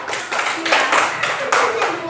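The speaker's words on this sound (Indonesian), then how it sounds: "Tepuk tangan buat Mbak Adi." Children applauding together in a classroom, a lively burst of hand clapping that swells and fades in waves across about two seconds, with faint voices mixed in.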